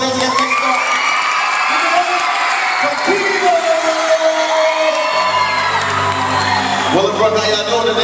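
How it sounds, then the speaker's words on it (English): A crowd of middle school students cheers, whoops and shouts loudly and continuously, a dense roar of young voices filling a large space, with some pitched yells rising above the din. "Give yourselves a round of applause."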